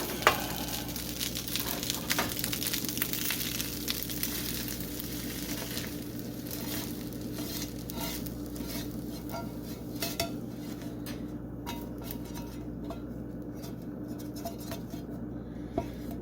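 Breakfast fried rice sizzles in a hot pan while a utensil scrapes and clinks against the metal in repeated stirring strokes, close and steady with no talking.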